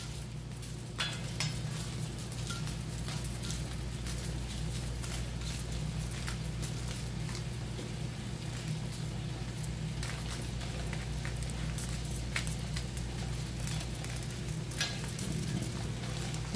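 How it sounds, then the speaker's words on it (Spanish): Tomatoes and puya chiles roasting on a hot griddle give a soft, steady sizzle with occasional light clinks and scrapes, quiet and continuous throughout. "Voy a poner los jitomates y los chiles puya a asar."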